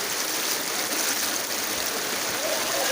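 Cold water rushes steadily over a waterfall, a loud continuous hiss and roar that holds even throughout with no breaks and no talking.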